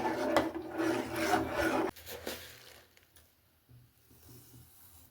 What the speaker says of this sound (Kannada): ನಾನಿವಾಗ ಇದಕ್ಕೆ ಸಕ್ಕರೆ ಹಾಕ್ತಾ ಇದ್ದೀನಿ